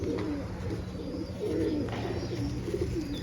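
A kept pigeon coos softly and repeatedly close by, low throaty calls rolling on in a steady rhythm over faint background noise.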